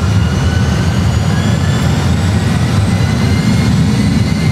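An airliner's engines run at takeoff thrust as a steady, loud, dense roar with a deep rumble. The noise holds constant throughout.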